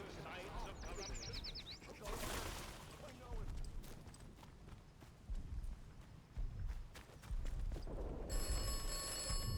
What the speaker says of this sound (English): Oh, I didn't expect the phone to ring again.